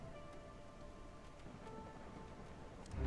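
Heavy rain falls steadily in the video game Whiskerwood, a dense, even wash of droplets with quiet tonal game music underneath, swelling slightly louder at the very end.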